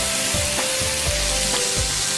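Beef chars in a hot wok with a loud, continuous sizzle, punctuated by a few scraping stirs of the utensil close by.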